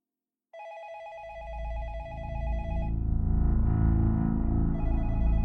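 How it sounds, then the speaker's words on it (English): A telephone rings with a steady electronic tone that starts abruptly and pauses before resuming, while a low droning musical bed swells underneath; no one speaks. "she heard her phone ring again"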